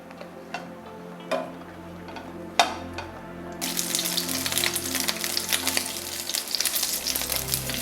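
Slit big green chillies hitting hot oil in a pan for mirchi ka salan, a few light taps first, then a sudden steady loud sizzle that holds to the end.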